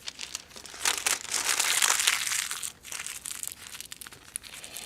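Wax paper crinkled and rolled by hand into a small ball, giving close, dense crackling that rises to a busy peak, briefly pauses, then continues in softer bursts.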